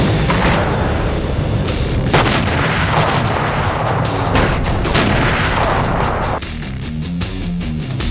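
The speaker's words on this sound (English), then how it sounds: "The gun fires rounds that are capable of just doing incredible damage." Heavy cannon fire from an M1 Abrams tank's 120mm smoothbore gun, dense and loud throughout with repeated booming blasts layered over one another and no pause.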